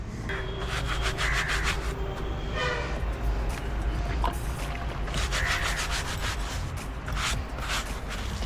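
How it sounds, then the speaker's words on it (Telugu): A brush scrubs a riding jacket lightly in rapid rough strokes, close and fairly loud, with a short pause midway and splashing in between. "లైట్గా బ్రష్ కొట్టేసుకొని"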